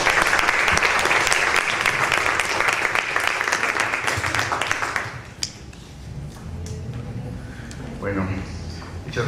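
Dense applause from a conference audience welcoming a speaker at a state science, technology and innovation outreach meeting, loud for about five seconds then tapering off into scattered claps and a voice.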